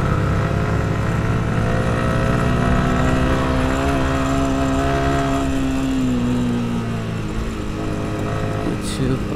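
A motorcycle engine on the road from Baghaihat, Khagrachhari to Sajek runs steadily and loud up close, its pitch rising slightly then easing, with a faint voice under it.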